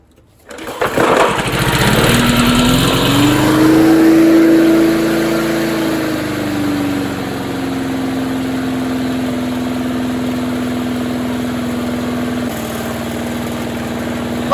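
A discarded lawn mower's small engine catches after a brief start, then runs steadily at close range with a loud, sustained drone that holds its pitch and vibrates roughly.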